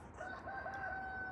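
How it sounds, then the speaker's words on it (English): A rooster on a small farm crows once with a drawn-out, wavering call, clear and fairly close, with no voices over it. "Jay got us the roosters"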